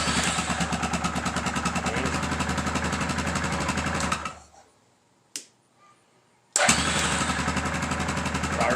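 A Yamaha Grizzly 450 ATV runs close and loud in a steady rhythmic idle, then shuts off into silence. A single sharp click sounds before the engine fires again and settles straight back into idling.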